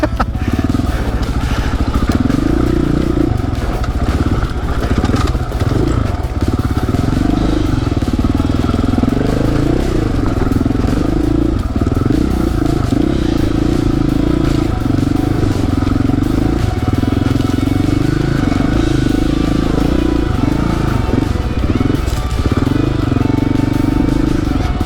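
A dirt bike riding rocky singletrack trail near Las Vegas, its engine droning and revving continuously with rattling clatter over rocks, loud and close throughout.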